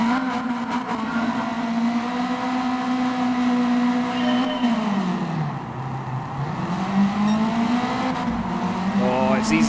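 A race car engine in Gran Turismo 7 revs hard at a grid start, held steadily near the limiter, then sags briefly in pitch before climbing back to a loud, sustained drone.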